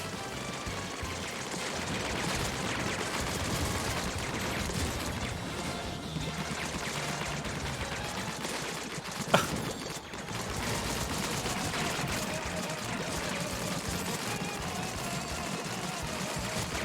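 Enemy gunfire in the video game Survival Quiz City crackles in dense, rapid bursts against a constant wash of noise, with one sharper crack standing out near the middle.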